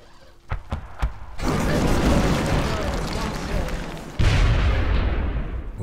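Weapon fire in XCOM Enemy Within: a few quick sharp shots at the start, then a long heavy roaring blast, followed by a second loud burst near the end, all dense and booming.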